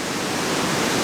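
Waterfall in a canyon roaring steadily up close, a dense, unbroken wash of falling water with no voices.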